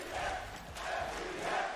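An esports arena crowd at a Valorant match, FPX vs OpTic in the VCT Masters Copenhagen 2022 lower final, gives a broad, sustained roar of cheering heard from a distance for a couple of seconds.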